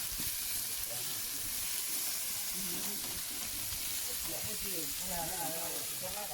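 Tongue grills on a corrugated metal sheet over an open fire, giving a constant loud hissing sizzle that fills the whole stretch, while people talk over it nearby.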